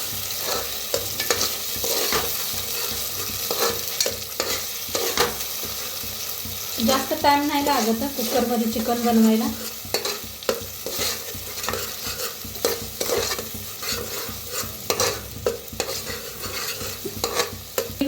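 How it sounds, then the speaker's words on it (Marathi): Steady sizzling of onion and masala paste frying in a pan for chicken, with scraping stirring throughout, and a voice talking over it for a few seconds in the middle. "मस्त कांद्याला भाजून घेऊया कांद्याबरोबर सगळा मसाला"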